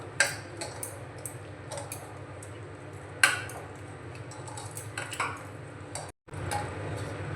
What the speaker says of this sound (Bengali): দিয়ে দিচ্ছি পেস্ট করে রাখা গাজর, ভালো করে মেখে নেব।